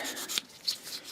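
Fine-grit sandpaper rubbing over a small plastic model figure, a few short close scratchy strokes in quick succession, quiet and without talk.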